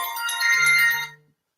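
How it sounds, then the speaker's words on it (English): A phone ringtone plays during a live phone-in show, a bright electronic melody with a sustained low tone beneath, loud and close, then it cuts off abruptly into silence. "Norman's ringing me"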